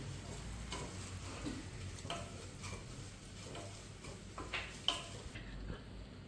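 Spices with chili powder and salt being sautéed in a pan for mutton pickle, a soft steady sizzle with spoon scrapes and taps against the pan, fairly quiet throughout.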